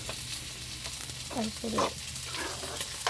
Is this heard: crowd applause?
no